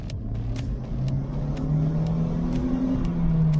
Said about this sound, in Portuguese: Agora você acelera, ó.